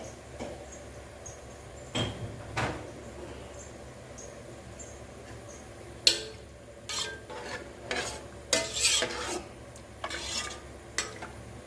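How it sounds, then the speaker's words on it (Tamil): Mint rice stirred slowly in a pot, quiet background hiss broken by irregular scraping and clinking strokes of a spoon against the pot, clustered more densely in the second half. "புதினா ரைஸை ரெடியாக எடுத்து இப்போ நம்ம மெதுவாக கலந்து கொடுத்துக்குவோம்"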